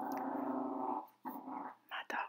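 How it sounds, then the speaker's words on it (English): Pet dogs growling indoors: low, rumbling growls close by, in three bursts, a long one and then two shorter ones with brief pauses between them. "My dogs are crazy."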